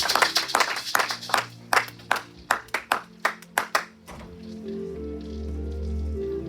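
A church congregation claps in rhythm, a loud close run of sharp, evenly spaced handclaps that stops abruptly and gives way to low room murmur and shuffling.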